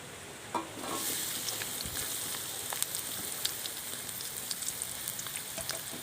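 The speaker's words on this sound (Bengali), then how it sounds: "পেঁয়াজটা আমি লাল লাল করে ভেজে নেবো" Chopped onions fry in oil with bay leaf and cumin for a lote fish chop, a steady crackling sizzle throughout with scattered pops and stirring, close and moderately loud, no talking.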